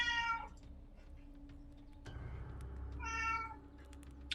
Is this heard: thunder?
no